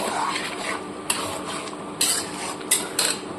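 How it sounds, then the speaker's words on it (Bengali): Turmeric, chilli, cumin and coriander spices frying in a pan for katla fish kalia, a steady close sizzle broken by sharp scrapes and clinks of a spoon stirring against the metal. "এবার এটাকে খুব সুন্দরভাবে কষিয়ে নেব।"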